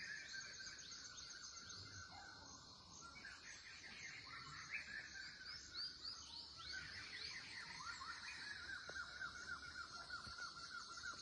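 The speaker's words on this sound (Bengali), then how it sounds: "পাখির আওয়াজগুলো খালি শোনো" Birds chirp and call again and again, faint and at a distance, in a hill village surrounded by forest at Kagey Khasmahal. A soft insect buzz runs underneath and nobody speaks.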